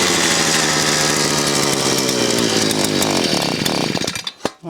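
A small gas engine started with the choke on roars loudly and continuously, its note shifting slightly before sputtering and cutting out with a few final pops and knocks near the end.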